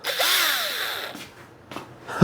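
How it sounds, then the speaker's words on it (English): A small power drill whirs for about a second as it spins up and winds down, followed by faint clicks and handling noises, close by; the tool is being readied for polishing work on a classic Chevrolet C10 pickup. "this little drill"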